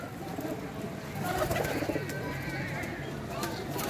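Healthy flying pigeons at a pigeon club coo softly and repeatedly nearby, their low throaty calls layered over a busy background with faint voices.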